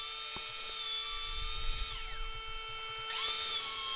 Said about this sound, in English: take it to the planer here. Send it through to get it to the correct width.